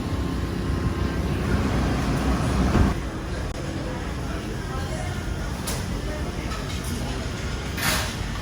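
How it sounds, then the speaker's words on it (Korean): Generators droning steadily across a neighbourhood during a twelve-hour power outage in Panglao, Bohol, a continuous low rumbling hum with some wind noise and a few faint higher clicks. "이 소리가 다 제너레이터 돌리는 소리예요"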